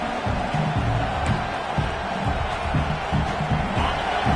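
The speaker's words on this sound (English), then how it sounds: "this crowd is fired up. Listen to this noise here." Crowd at a Nebraska vs Iowa college football game in a stadium, a loud continuous roar of many voices with rising cheers and whoops, distant and enveloping.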